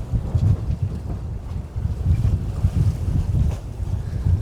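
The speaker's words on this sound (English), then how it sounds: "There's another little tugboat or something coming." A small tugboat approaching on the water near a cruise ship grounded on rocks, its low engine rumble steady beneath gusting wind on the microphone and waves.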